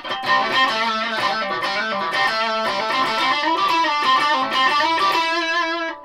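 An early-1980s Japanese electric guitar with distortion plays a sustained, gritty riff with ringing chords and notes, steady and loud throughout.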